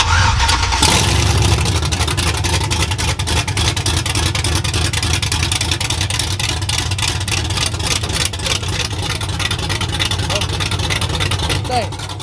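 A truck engine with an aftermarket cam and open headers cranks over, catches and revs with a rough, loud rumble that keeps running, while voices are heard nearby.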